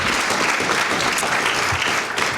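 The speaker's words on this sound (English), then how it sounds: "Let's give Suzanne Miller a big round of applause" An indoor audience at an evening talk applauds, a dense, even wash of clapping hands that holds steady throughout before easing slightly at the end.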